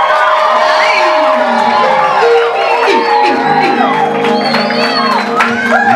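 Wedding guests at a church ceremony in Mombasa clap and cheer loudly, a dense crowd roar with whoops and shouts running continuously under an officiant's amplified voice.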